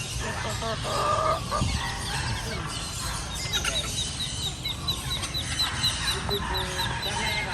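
Several chickens cluck and squawk at a poultry market in Ban Pong, Thailand, with occasional honking calls and scattered rustling.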